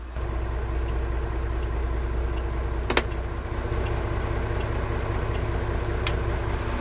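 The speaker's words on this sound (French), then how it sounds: "je vais démarrer le tracteur et je vais tester le relevage." A farm tractor's engine runs at a steady low idle, close and constant, with a couple of brief sharp knocks partway through.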